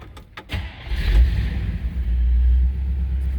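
A 1955 Cadillac Coupe DeVille's engine cranks briefly and catches, settling into a loud, steady low rumble at idle close by, with no voices.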